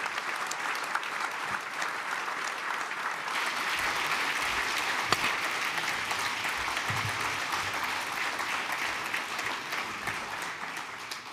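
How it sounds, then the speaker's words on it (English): Audience applause for an expert panel at a security conference forum: steady, dense clapping from a large crowd, sustained and fairly loud throughout, with no voices over it. "please, a round of applause for these experts here"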